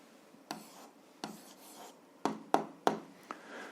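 Handwriting an algebra answer on paper, a few separate scratchy pen strokes in short bursts with quiet pauses between, close and fairly faint, no speech.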